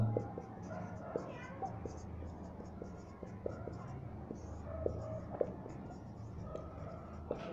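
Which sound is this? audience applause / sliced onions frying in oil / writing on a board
writing on a board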